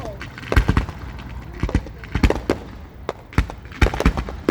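Fireworks at an outdoor summer display burst in a rapid irregular series of loud cracks and booms, some echoing, while people talk excitedly nearby.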